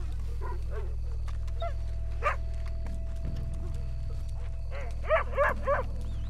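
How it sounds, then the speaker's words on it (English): A dog barks and whimpers in Red Dead Redemption 2, with several short yelps and whines spread over a steady low in-game ambient hum, with louder clustered barks near the end. "Dog."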